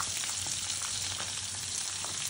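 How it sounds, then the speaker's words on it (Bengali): Fish frying in a pan in a home kitchen, a steady, close hiss of sizzling oil with small crackles and pops scattered through it, no voices. "কি করছে দেখি, মাছ ভাজছে"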